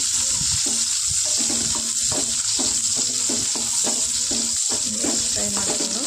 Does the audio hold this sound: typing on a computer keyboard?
no